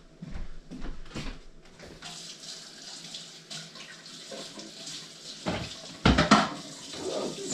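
Water runs from a kitchen sink faucet as coffee grounds are rinsed down the drain, a steady hiss with a few louder splashes and knocks near the end, close and alone.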